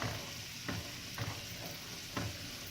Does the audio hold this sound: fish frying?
yes